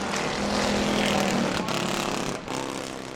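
Six-cylinder race cars roar around the track at a family fun night race, a loud, continuous engine drone with pitch shifts as the cars pass close by.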